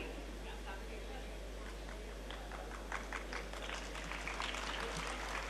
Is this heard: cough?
no